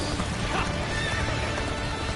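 Loud horse whinnies ring out over rapid hoofbeats and dense battle noise in the Dynasty Warriors Origins video game, steady and close for a couple of seconds.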